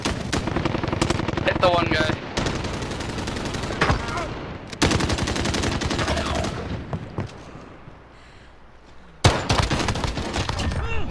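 Sustained bursts of rapid automatic gunfire in a video game gunfight match, loud and dense with brief pauses between volleys, a voice speaking briefly over the shooting.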